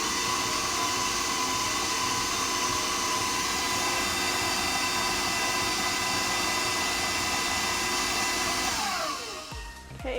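An electric mixer whirs steadily as it beats egg with butter and sugar for vegan allergy-friendly oatmeal cookies, a loud continuous motor drone that winds down at the very end.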